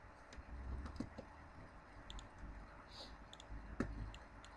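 Sharp, isolated computer mouse clicks while working in SolidWorks CAD software, a few faint clicks spaced irregularly over quiet room tone.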